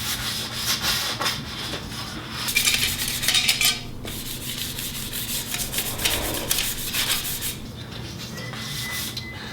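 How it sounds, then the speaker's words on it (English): Sandpaper rubs steadily across a smooth brass fireplace piece, a close, continuous scratchy scraping that swells louder in bursts and then eases, with no one talking. "So just like that, so this piece is sanded."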